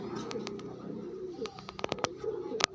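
Pigeons in a loft cooing, soft low throaty coos that are close and continuous, with scattered clicks and taps around them.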